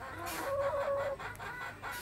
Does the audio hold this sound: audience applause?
no